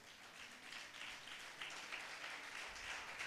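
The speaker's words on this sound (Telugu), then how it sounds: "చప్పట్లు కొట్టండి ఒకసారి" Church congregation at a Sunday worship service clapping together, a faint, distant patter of many hands that swells slightly toward the end, with no speech over it.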